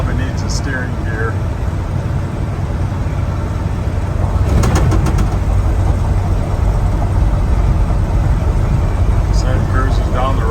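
A 1978 Ford F150 pickup with a 4-speed manual transmission drives down the road, its engine giving a steady, loud low drone throughout while someone talks over it.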